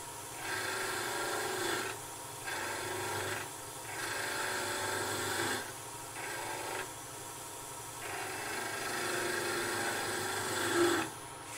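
A woodturning tool's bevel rides against a wooden goblet spinning on a lathe, giving a steady rasping, scraping cut in repeated passes of a second or two, separated by brief pauses, close and fairly loud.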